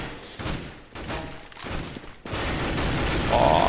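Bursts of gunfire in Counter-Strike on the de_inferno map, dense and loud, forming a near-continuous volley as shots overlap.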